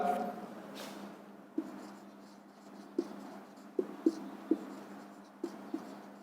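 Pen on paper writing an accounting entry, with a few soft scratching strokes and light taps at an irregular pace, close and quiet over a low steady room hum.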